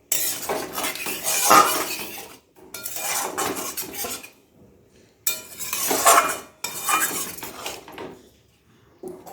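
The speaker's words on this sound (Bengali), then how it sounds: "খুব ভালো করে মিশিয়ে নেব আর খুন্তি দিয়ে ডিমগুলো একটু চিড়ে চিড়ে দেব" Eggs in a pan broken up and mixed with a metal spatula, four bursts of loud, close scraping and clattering against the pan separated by brief pauses, no talk.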